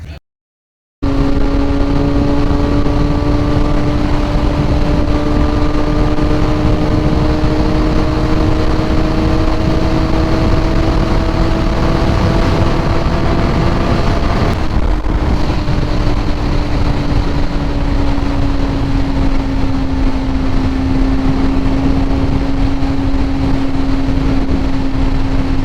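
Kawasaki ZX-4RR sport motorcycle exhaust riding at speed with quick shifts, a loud steady high-revving inline-four drone that holds and climbs, dips briefly at a gear change midway, then settles into a lower sustained note with heavy wind noise.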